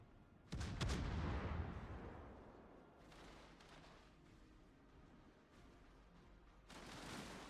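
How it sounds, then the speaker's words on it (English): Naval artillery from the cruiser Marseille in World of Warships, a heavy booming salvo up close followed by distant rumbling reports and a second salvo near the end, with no talk over it. "Here come double Marseille shots with reload booster"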